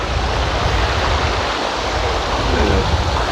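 Water from a stream rushes steadily through a canyon in Üzümdere National Park, a continuous broadband wash with no break, heard close and loud with no voices over it.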